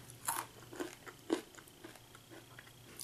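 Crisp crunching bites of kettle peanuts with popcorn kernels, a few loud cracks spaced irregularly with softer chewing crunches between them, close up with no talking.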